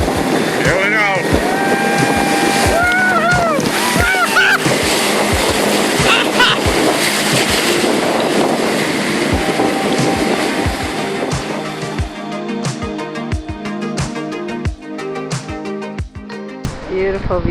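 A whitewater raft crashes through Grand Canyon rapids, with a loud continuous roar of churning water and splashes throughout and people's voices and shouts mixed in.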